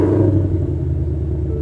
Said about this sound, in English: Engine on.